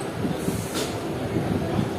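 An inaugural special train on the Azimganj–Cossimbazar line rumbles steadily as it arrives at its final station, a low continuous rolling drone heard from close by, with no talk.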